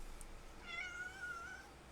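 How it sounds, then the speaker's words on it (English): A house cat gives a single drawn-out meow, fairly faint, against quiet room background with no speech. "Sorry, my cat is bugging."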